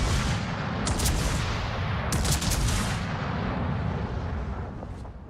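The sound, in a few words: warship guns firing in video game World of Warships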